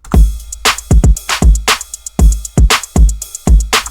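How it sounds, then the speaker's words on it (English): A punchy hip hop drum loop with booming kicks, snappy snares and a steady ride cymbal shimmering on top, loud and close. "Altogether, the drum loop sounds like this."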